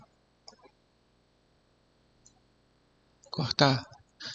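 A few sharp, faint computer mouse clicks sound apart in a quiet room while video is edited in studio mode. Near the end someone speaks softly, with another click alongside.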